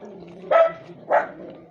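Two short, sharp dog barks about half a second apart, close and loud, with a faint background hum.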